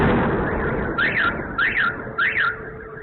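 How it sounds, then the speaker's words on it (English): Car alarms wail across an area in Russia in repeated rising-and-falling siren bursts, loud and near, with a dense rumbling background and no talk. "with car alarms going off throughout the entire area"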